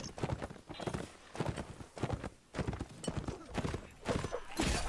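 Horse hooves clip-clop in a video game battle against mounted enemies, a fast, dense run of clattering steps that keeps going under busy game noise throughout.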